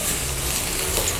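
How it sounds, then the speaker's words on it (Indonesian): Shallots sautéing in a small amount of hot oil give a steady, dense sizzle throughout, close and even with no talk over it. "Kita tumis bawang merah sampai harum."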